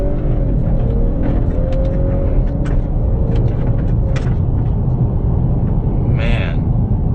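A 2018 Honda Accord accelerating on a gravelly road as the driver works the paddle shifters: steady engine drone and tyre rumble from inside the cabin, with faint clicks and a brief squeak near the end.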